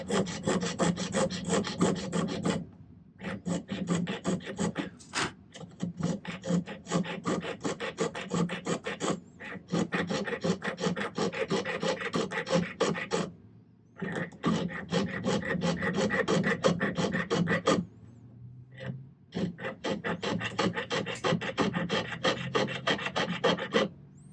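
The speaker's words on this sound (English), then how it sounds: "just kind of keep cutting into the wood like that, and it'll get your notch started pretty well" Silversmithing work: a blade rasps back and forth cutting a notch into a block of wood, making steady close scraping strokes in long bursts separated by brief pauses, with no talk.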